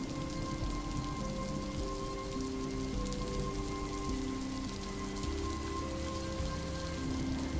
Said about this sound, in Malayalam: നല്ല മഴ പെയ്യുന്നത് കൊണ്ട് കൊട്ടാരത്തിൻ്റെയും ചുറ്റുമുള്ളതിൻ്റെയും ഭംഗി ഒന്നും കൂടെ